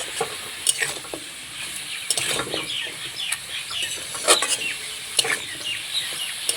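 Cauliflower, potato and carrot pieces frying with spices for broken-wheat khichuri, a steady sizzle broken by repeated scraping stirs of a spoon in the pan, close and fairly loud with no voices.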